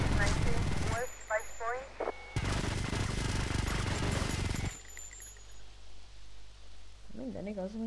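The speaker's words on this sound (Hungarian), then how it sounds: "Most addig lövöldözök, amíg meg nem halok." Dense bursts of video game gunfire in GTA Vice City, with loud sustained shooting in two long stretches separated by quieter gaps, mixed with game sounds and a voice speaking Hungarian over parts of it.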